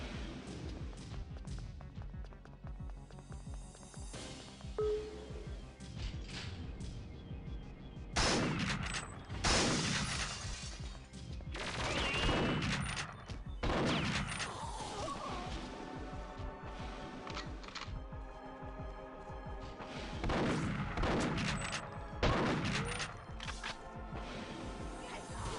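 Shotgun blasts from the Perfect Dark PC port, a sequence of loud, sharp booming shots spaced a few seconds apart, with mechanical handling clicks in between and no talk.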